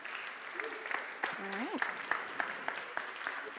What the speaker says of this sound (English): Let's give her a round of applause to welcome her.